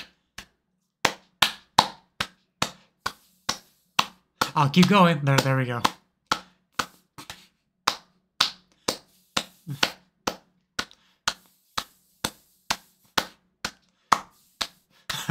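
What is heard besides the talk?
hand clapping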